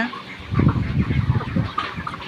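Broiler chickens clucking nearby: a cluster of low, throaty clucks and murmurs in quick irregular bursts, fairly loud and close, with a higher call near the end.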